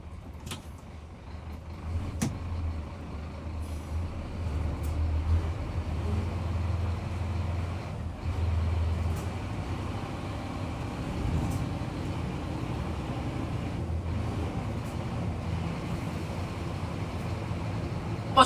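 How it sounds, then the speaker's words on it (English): Tipper truck climbing a road with its wheels spinning on the surface, a continuous heavy low engine drone with deeper surges, close and steady, no talking. "I'm gonna have to put that tipper up to get back up this road."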